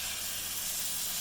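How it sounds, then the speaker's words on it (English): A pan of meatball coconut curry sizzles as acid liquid deglazes it. The sound is a loud, steady broadband hiss that holds for the full moment without a break. "Hear that sizzle now, okay?"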